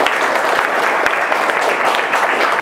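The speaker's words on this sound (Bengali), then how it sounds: "ওর জন্য একটা হাততালি দাও।" Students at a school in Ramgarh clap for a classmate, a loud, continuous round of applause with distinct individual claps standing out.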